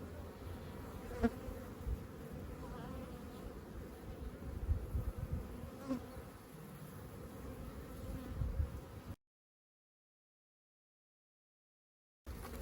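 Honeybees buzz steadily around an open hive while a colony is split in early spring, a low continuous drone heard close up with occasional louder passes, and no voices present.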